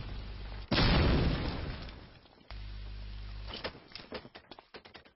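Grenade explosion in Medal of Honor: Allied Assault multiplayer, one loud booming blast with a long rumbling tail, then a steady engine-like drone and scattered sharp pops and clicks.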